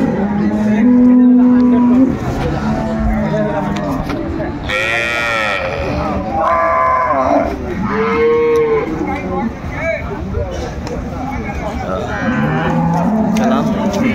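A cow with her calf moos at a busy cattle market at Aftabganj haat in Dinajpur. Several loud, drawn-out lows rise over steady crowd noise and background voices.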